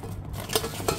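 Metal oil-frying pot with a strainer basket being handled, giving a couple of soft clinks and knocks over quiet background.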